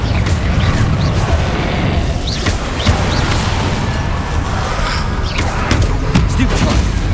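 Confringo fire-spell blasts ring out amid a dense Hogwarts Legacy battle. Loud booms and crashes sit in constant combat noise, with a voice calling out spells.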